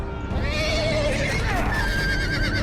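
Horses whinny loudly in a Game of Thrones video game, with neighing calls rising over a dense background of galloping hooves and battle noise, running continuously throughout.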